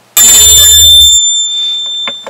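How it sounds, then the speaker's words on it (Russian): A loud notification bell chime rings out sharply with a sustained high tone, then fades as a few faint clicks follow. "Нажимаем на колокольчик."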